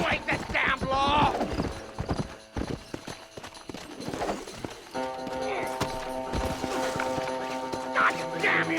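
Horse hooves clip-clopping in the Red Dead Redemption video game, mixed with game music, impacts and character voices, with the hoofbeats rising and falling under the busy soundtrack.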